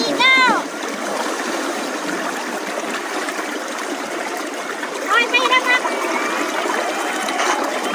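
Steady broadband rush of a river current at a clear freshwater swimming spot, continuous and fairly close, with splashes and brief bird-like chirps over it and voices faintly mixed in.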